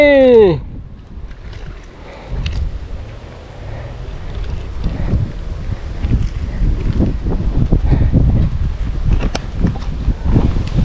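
Strong gusting wind buffets the microphone while a Chula kite is flown, irregular low rumbling blasts building in loudness over a brief opening tone, with scattered faint voices.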